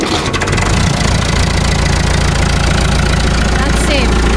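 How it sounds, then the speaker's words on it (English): A Massey Ferguson MF 188 tractor engine runs loud and close, a steady rough diesel idle after a brief starting clatter, throbbing evenly throughout with voices faintly under it. "That's how you start the tractor."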